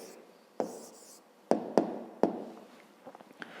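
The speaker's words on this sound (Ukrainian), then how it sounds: "зараз записуємо відповідь" Pen or pencil writing out a cube-volume answer by hand during a fifth-grade maths exercise, heard as several sharp taps and short scratchy strokes close by, alone with no talking.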